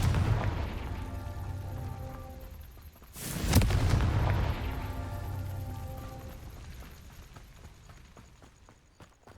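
A Confringo fire spell explodes in Hogwarts Legacy on PS5, one loud burst in the middle with a rumbling tail fading over a few seconds, set against ambient game music.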